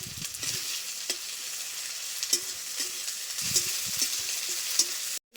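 Garlic paste hits a pan of chopped onions already frying in oil, giving a steady, close sizzle with occasional stirring scrapes and no talking.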